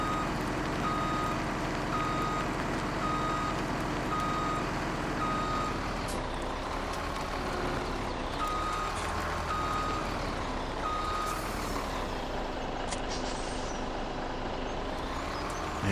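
In Farming Simulator 17, a truck backs up with a steady, evenly spaced reversing beep repeating over a low diesel engine rumble, with a brief air-brake hiss near the end and no talking.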